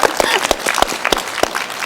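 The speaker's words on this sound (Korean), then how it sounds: "여러분 박수 한번 보내주십시오" A studio audience at a Korean television music-and-talk show claps in a short burst of distinct, close hand claps.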